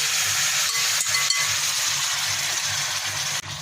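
Kudu burger mixture tipped into a totally dry pot gives a steady, loud hiss and rustle that carries throughout, with a few soft clinks and a sharp tap near the end.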